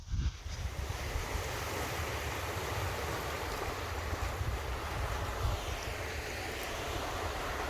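Big waves break on a rocky beach in Madeira, a steady roaring wash of surf with low rumble, mixed with wind buffeting the microphone throughout.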